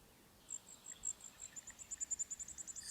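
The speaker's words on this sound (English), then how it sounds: "think about that you might be getting a Brewer's sparrow" A Brewer's sparrow sings alone from the South Okanagan: a long, fast series of high, thin trilled notes that starts faint and grows steadily louder and quicker, with no voices over it.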